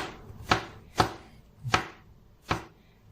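Mushrooms chopped with a knife on a cutting board while preparing a sauce for ribeye steak, four crisp separate knife strikes at an uneven pace, close and clear with no talking.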